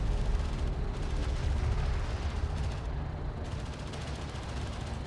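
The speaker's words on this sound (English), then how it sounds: "Returning fire." Gunfire and weapon fire in the real-time strategy video game Deserts of Kharak, a dense, continuous rumble of battle with booming shots and blasts blurring together, loud and without talk.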